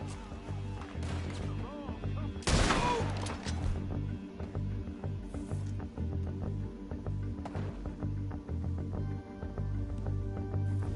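Gunshots in the Western game Red Dead Redemption 2: one loud, sharp crack stands out early, with a few fainter shots later, all over a steady bed of background game sound.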